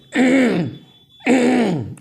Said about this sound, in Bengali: এরকম করে গলাটা ঝাঁকারি দিচ্ছেন